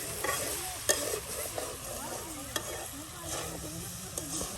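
Food frying in oil in a pan outdoors, a steady close sizzle with repeated scraping and clinking from stirring, occasional sharper knocks against the pan; no clear talk.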